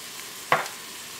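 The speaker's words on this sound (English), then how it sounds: "Our onions and garlic are soft and golden, and our sausage is cooking up quite nicely." Sausage, onions and garlic sizzle softly in an Instant Pot on sauté, a faint steady hiss broken once by a short, sharp clatter of stirring.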